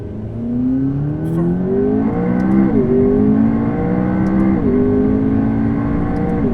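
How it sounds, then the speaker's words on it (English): The engine of an 840 HP McLaren MP4-12C drones steadily at high revs, its pitch climbing and briefly stuttering with quick traction-control cuts before rising again. "So when you hear that bop bop, that is traction control kicking in"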